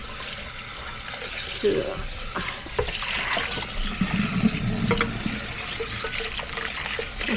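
Tap water runs steadily into a Thermomix bowl as it is rinsed in a sink, a continuous splashing rush with shifting gurgles, a voice briefly heard over it.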